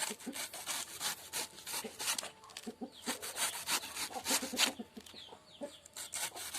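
Banana tree trunk being chopped finely by hand for pig feed, a steady run of rapid moist cutting strokes, close and moderately loud, with chickens clucking faintly nearby.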